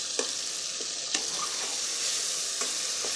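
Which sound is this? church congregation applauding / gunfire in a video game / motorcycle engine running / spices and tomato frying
spices and tomato frying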